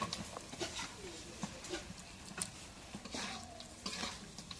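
Fish with spices fries in a pan while being stirred, giving soft scraping clicks over a faint sizzle, quiet and close, with a low voice murmuring in the background.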